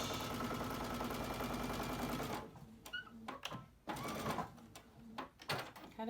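A sewing machine runs in a steady dense whir for about two and a half seconds while stitching along the edge of a fabric mask, then falls to brief stop-start bursts and handling noises.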